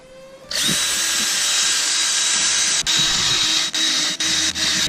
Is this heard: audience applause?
no